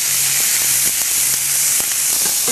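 Onions frying in browned butter with a dash of oil in a pan, a loud continuous sizzle and hiss filling the moment, with faint clicks underneath.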